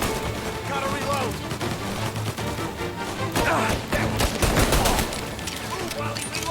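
Gunfire crackles in the video game Mafia: Definitive Edition, with dense rapid volleys and bursts that build to a loud flurry, mixed with game voices and background sound.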